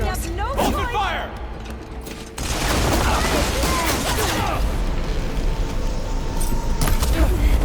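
Gunfire erupts in the video game Horizon Forbidden West, a dense clattering volley of shots and mechanical clanks under loud combat noise.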